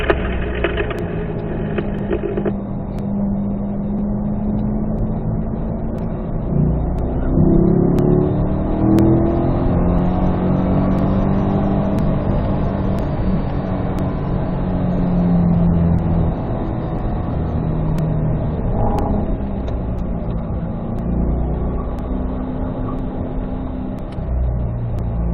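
A Corvette on a racetrack revs through braking and downshifts, engine note swooping down and back up, then climbing under acceleration out of a curve, loud and continuous with no talk.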